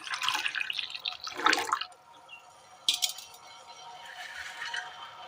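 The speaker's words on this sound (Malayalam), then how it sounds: "ഇതിലേക്ക് തേങ്ങയുടെ 1/4 പാൽ ഒഴിച്ചു കൊടുക്കാം." Coconut milk splashes and pours into a pot in two short bursts, with a faint clink, then a softer trickling settles in.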